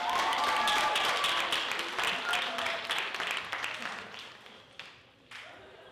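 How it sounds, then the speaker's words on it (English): Applause from an audience welcoming a speaker at a student talk event, a full round of clapping that starts strong and gradually thins out, ending in a few scattered claps. "So let's welcome Tony Maquiling with a warm round of applause."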